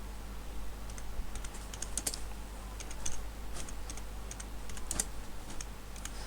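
Typing on a computer keyboard: quiet, irregular bursts of key clicks over a steady low hum, with a few slightly louder taps, no voices.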